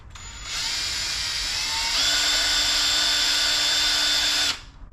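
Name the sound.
drilling a hole with a drill bit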